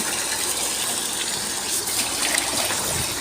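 Water gushes and splashes continuously as rice is washed for idli batter, a loud, steady rush of pouring and swirling liquid.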